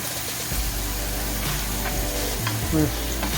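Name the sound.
peppers frying and being stirred in a pan for jambalaya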